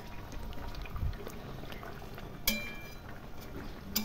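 Katla fish curry simmering on a low flame in a covered pan, a soft continuous bubbling and hiss held at a steady low level, with a couple of faint lid or utensil clinks.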